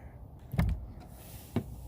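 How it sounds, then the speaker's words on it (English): Plywood porch door on a kitchen renovation swung shut with a slide lock nearby, a close, solid thud followed by a second shorter knock a second later, no talk. "Just close this door,"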